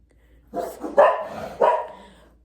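Dogs bark indoors in a few sharp, loud bursts close by, a quick cluster of barks followed by a trailing yip.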